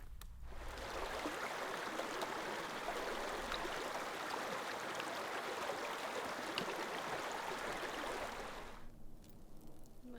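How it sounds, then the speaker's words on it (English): Light rain shower falling on a hiking trail in Arizona, a steady broadband patter and hiss that holds evenly for about nine seconds before easing off abruptly near the end. "Little shower on the trail."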